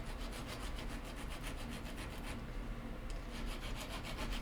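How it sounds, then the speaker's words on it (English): Corner of a hand file roughing up the outside of a grip nut on a homemade craft knife, a quiet, rapid back-and-forth rasping that keeps up steadily without pause. "And then we're just going to go a little bit carelessly, with a file"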